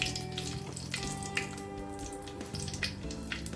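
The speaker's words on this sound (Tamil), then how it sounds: "கடுகு நல்லா பொரிஞ்ச பிறகு" Mustard seeds spluttering in hot oil in a kadai, heard as a quiet, steady sizzle with small crackles and pops scattered throughout and a faint background hum.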